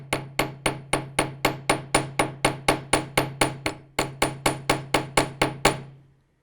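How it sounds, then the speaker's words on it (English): A hammer taps metal jewelry wire in a fast, even series of about twenty light strikes, each with a brief ringing tail, then stops. "So allowing your hammer to do most of the work, you're just going to start lightly tapping."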